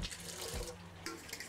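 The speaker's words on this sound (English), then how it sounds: "I like to add a little bit of water." Tap water runs into a sink while cooking walleye, a steady close splashing stream that continues on its own for the whole short stretch.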